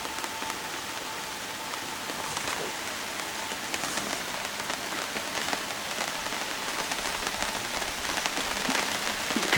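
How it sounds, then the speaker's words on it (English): A light rain shower falls at a mountain camp, a steady, dense patter of drops on surfaces that holds even and close throughout, with no voices. "matter of fact, it is raining"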